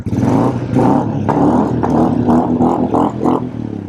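A Royal Enfield Classic 350 with a full aftermarket exhaust, FuelX and DNA filter revs repeatedly, a loud, deep, throaty exhaust rumbling and rising in short bursts, close by.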